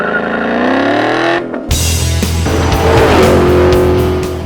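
A 2011 Ford Mustang GT V8 fitted with a Borla exhaust revs hard and loud up close, with a rising roar, a brief dip as the throttle lifts, then another deep, sustained surge of engine and exhaust noise.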